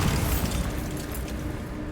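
Bombarda spell exploding in Hogwarts Legacy, a loud, dense low rumbling blast that fills the whole moment and rolls on steadily without a break.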